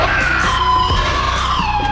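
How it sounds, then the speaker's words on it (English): Crowd of flagellant men in white, penitents of the 1348 Black Death era, screaming and yelling together in a loud, continuous, distressed chorus with no pauses. "screaming."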